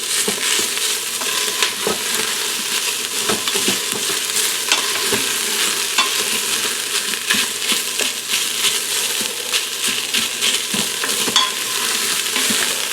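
Seasonings sizzle in a hot pan as a base for soup: a steady, close crackle of frying with scattered stirring scrapes and clicks throughout, no voices.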